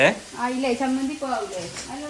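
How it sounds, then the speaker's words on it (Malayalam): Oil sizzles and crackles steadily as fish fries in a pan while a person talks over it, the frying hiss running underneath the voice throughout. "മീൻ ഇങ്ങനെ പൊരിക്കണുണ്ട്"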